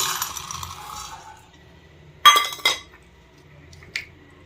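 Roasted gram dropped into a grinder jar while preparing steamed modaka, a sudden close rattling clatter of grains against the jar followed by a second smaller burst and a light knock, over a low background hum.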